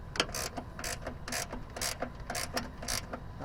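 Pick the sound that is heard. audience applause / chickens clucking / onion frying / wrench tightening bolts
wrench tightening bolts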